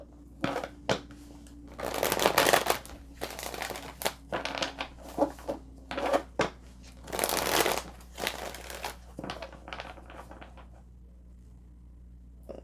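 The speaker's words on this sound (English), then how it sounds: "So let's pull some tarot and see." Tarot cards are shuffled by hand up close in irregular bursts of riffling and slapping, with quiet pauses between the flurries.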